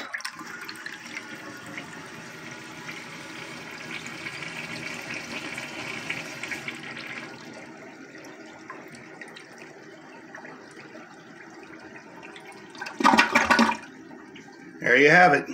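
A pink Kohler Rochelle toilet, once broken and since repaired, flushes with a long rushing swirl of water, then quiets to a softer trickle before brief louder bursts of refilling near the end, with a short spoken comment.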